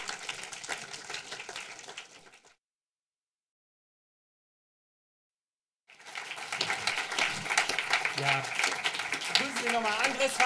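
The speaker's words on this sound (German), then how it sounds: "Aber schon mal ganz großen Applaus" Audience at a film screening applauds, with steady clapping at the start, a sudden break to silence, then a fuller, louder round of applause with voices heard over it.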